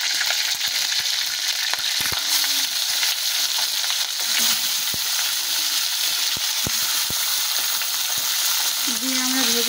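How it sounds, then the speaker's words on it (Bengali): Chicken pieces for biryani frying in hot oil, a loud continuous sizzle with occasional sharp clinks and stirring knocks from a utensil against the pan. "যে বাকিগুলো আছে সব এরকম করেই ভেজে নেব আমরা"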